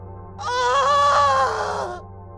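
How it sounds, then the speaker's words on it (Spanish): A single drawn-out, high-pitched cry from a woman, rising and wavering for about a second and a half before cutting off, loud and close. "La mujer dio un grito desgarrador"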